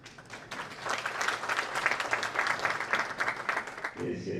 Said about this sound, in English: Kindly let us applaud the Secretary of Administration with one round of applause.